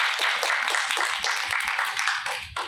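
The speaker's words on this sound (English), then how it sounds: "Let's give them a round of applause." An audience at a district presentation applauds, a brief burst of many hands clapping at moderate loudness that tails off near the end.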